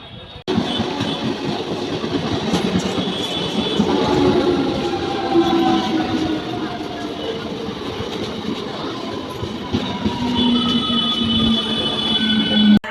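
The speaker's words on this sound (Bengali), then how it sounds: "এবার ট্রেনে উঠে পড়ব।" A suburban passenger train runs from Konnagar to Belur. Its rumble and rattle are loud and continuous, with drawn-out wheel squeals rising and falling across the ride.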